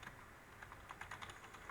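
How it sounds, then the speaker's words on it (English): Quiet, rapid keystrokes on a computer keyboard, an irregular run of soft clicks heard alone and close with no talk. "You can't see me typing"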